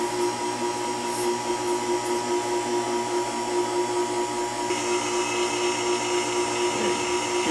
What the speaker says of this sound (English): we're going to vacuum that again real quick